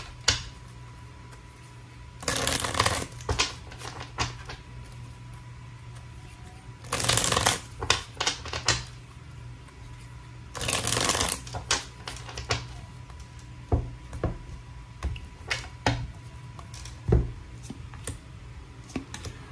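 Tarot cards are shuffled in several bursts of crisp riffling, with lighter taps and flicks of the deck in between, close and clear against a quiet room with a faint background hum.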